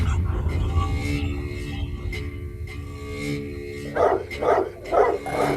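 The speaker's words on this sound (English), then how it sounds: "Your dog was gonna rip my dog's throat out." Dogs bark and scuffle in a tense fight, with a run of loud, rough barks near the end over a muddy, noisy background.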